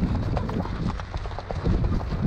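A horse's hooves clip-clop through a steady, dense rumble of background noise on a ride heading up a mountain ridge, the irregular hoof strikes blending into the wash of sound.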